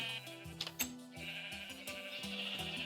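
Minecraft sheep bleat repeatedly in quick succession, a chorus of short wavering baas stacked over steady background game music, fairly close and moderately loud.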